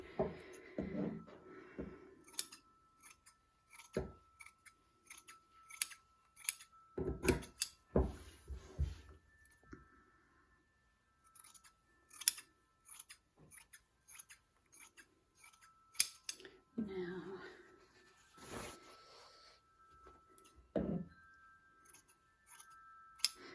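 Scissors cut through quilt fabric for an improv nine-patch block, with scattered crisp snips in short bursts separated by quiet pauses, close and fairly faint, along with occasional handling rustles.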